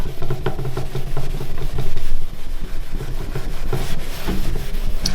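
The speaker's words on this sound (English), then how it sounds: "Just keep on giving it a few more scrubs." Steady back-and-forth scrubbing of a blade coated with cleaning product, a close, continuous rubbing with a dense rhythmic texture and some faint mechanical hum underneath.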